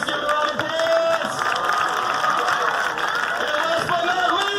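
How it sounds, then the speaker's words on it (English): A gym crowd applauds and cheers during player introductions at a school sporting event, a dense steady wash of clapping and babble that fills the space for several seconds. "Give it a round of applause."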